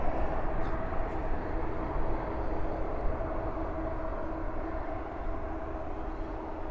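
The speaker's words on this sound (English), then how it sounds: "Spoilers up, reversers out on this Neo." Airbus A320neo rolling out at night at Dallas Fort Worth airport with spoilers up and thrust reversers deployed, a steady broadband roar and rumble heard at a distance, continuous without talk.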